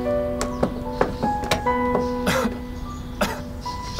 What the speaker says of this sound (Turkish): Sabahtan beri ne öksürükmüş.